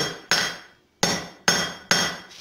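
A hammer forges copper on an anvil, four sharp ringing blows at an uneven pace, each decaying with a metallic tail, heard close and alone.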